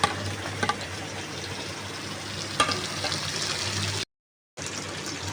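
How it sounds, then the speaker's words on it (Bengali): Potato and eggplant fry together in a small amount of hot oil, giving a steady, close, dense sizzle that cuts out briefly near the end and then resumes. "এবার আমি একটু আলুটা দিয়ে দিচ্ছি আলু আর বেগুনটা একসাথে ভাজা হতে থাকুক"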